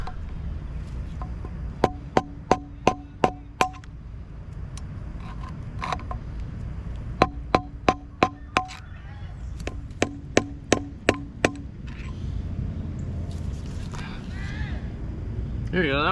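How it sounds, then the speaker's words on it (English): Boat trailer bearing races being driven out with a screwdriver, sharp metallic strikes in quick bursts of four to six blows separated by pauses, close and loud over a low background hum. "it kind of pains me to just beat on bearings with a screwdriver"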